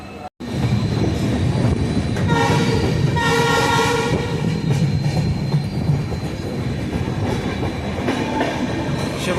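NJP–APDJ Tourist Express pulling out of Sevoke station, with steady rolling rumble, rhythmic wheel clatter and squeal on the rails and a horn blast early on, heard up close from inside the moving train.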